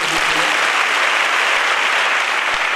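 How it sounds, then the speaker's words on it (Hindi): Loud, dense audience applause fills a hall during a motivational company speech, continuous and even from start to finish with a few low thumps near the beginning and no talking over it. "एक बार जोरदार ताली होनी चाहिए"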